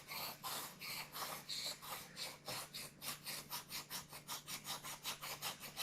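A knife blade is drawn across a wet 240 grit whetstone in quick, rhythmic gritty strokes, close and continuous, speeding up toward the end, with no talking.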